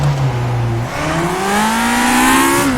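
A simulated race car engine in rFactor 2 drops in pitch at a gear change, then climbs steadily as it revs back up in first gear. It sounds loud and close, with no voices.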